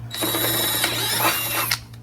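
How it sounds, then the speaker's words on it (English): A power drill with a 5/16 bit bores out holes while fitting Go Rhino Dominator D1 side steps, a loud continuous whine for nearly two seconds before winding down. "we're just gonna drill these out"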